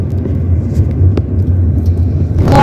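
Traffic on a mountain road toward Trashigang heard from a moving vehicle: a steady, loud low engine and road rumble, then a brief rising whoosh near the end as a vehicle goes by, with no talking.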